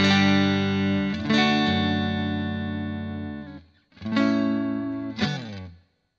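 A clean, bright electric guitar through a Vox VT20X Valvetronix modelling amp on a Deluxe-style tone rings out in sustained chords, with a couple of fresh strums later and a light reverb tail as the notes fade.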